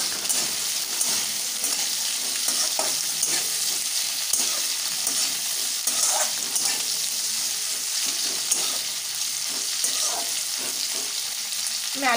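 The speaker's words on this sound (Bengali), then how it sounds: "আমি আলু ফুলকপিটাকে এভাবেই মিডিয়াম হাই ফ্লেমে 1 মিনিট একটু ভাজা হতে দেবো।" Potato and cauliflower fry in a pan over medium-high flame, giving a steady close sizzle with occasional scrapes and knocks from stirring.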